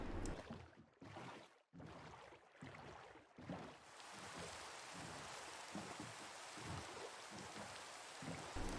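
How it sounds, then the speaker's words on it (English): Rain in a Minecraft-style video game, a steady hiss of falling rain that starts with broken bursts and then settles into continuous patter, quiet throughout. "The rain certainly does put a damper on things"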